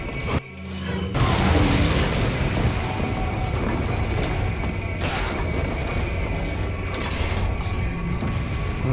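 A fire grenade detonates in Resident Evil 4, opening with a sharp burst followed by a sustained, loud roaring crackle of flames and mechanical rumble that fills the rest of the moment.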